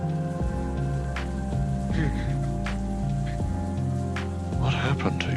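Steady rain falls throughout as a constant wash of patter, with people talking over it and a low musical drone underneath.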